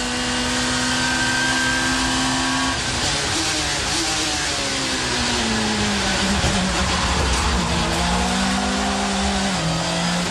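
1990s touring cars race together at full throttle, engines droning and shifting pitch, with a rough scraping rumble as the cars make body contact at close quarters.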